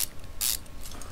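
In Car Mechanic Simulator 2015, bolts are ratcheted onto a front wheel hub as a quick burst of mechanical whirring clicks, loud and close, lasting only about a second.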